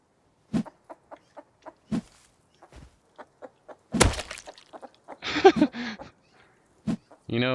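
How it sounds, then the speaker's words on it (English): In the video game Rust, a chicken gives a series of short, evenly spaced clucks, with a few louder squawks and bursts of noise in between, heard close and clear. "Oh, is that a chicken?"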